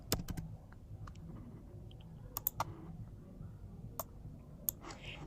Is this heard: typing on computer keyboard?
yes